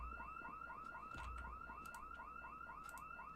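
An alarm triggered at a diner in Project Zomboid wails in a fast repeating rising whoop, steady and rhythmic, faint under a few soft clicks.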